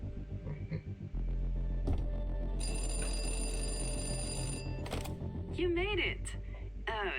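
Trilling electronic telephone ring inside a research station in the game Nuts, repeating over a steady generator hum, with game sound effects around it.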